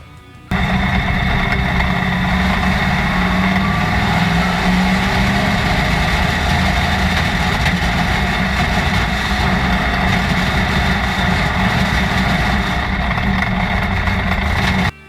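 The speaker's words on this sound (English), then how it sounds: "I'm going to show a real quick clip of the car wanting to skip, and so you guys can hear the audio from it." A race car's engine idles and stumbles loudly nearby, held low without revving past about 3,000 RPM and skipping unevenly from a fault, a steady rough drone that cuts in and out briefly at the start and end.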